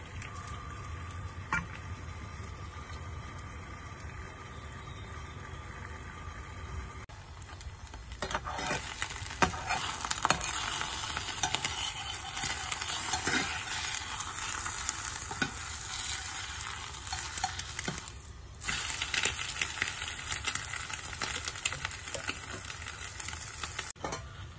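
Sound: frying a sunny-side-up egg

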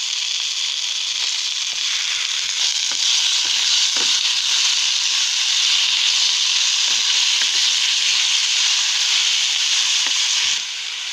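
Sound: green chillies frying in a pan

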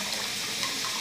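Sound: water running from a tap

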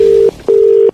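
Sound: telephone being dialed for a prank call

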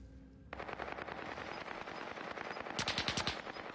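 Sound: sniper gunfire in a video game

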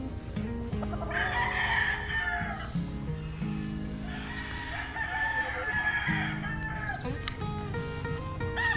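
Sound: bulik gamecock rooster crowing

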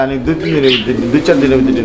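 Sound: pigeons calling

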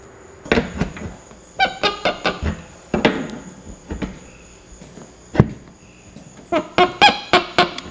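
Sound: fitting squeaking while being tightened, 3/4 inch air line kit

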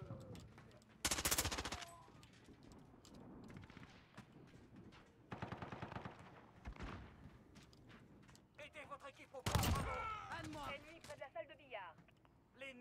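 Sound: gunfire in Call of Duty video game

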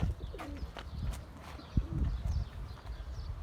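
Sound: pigeons

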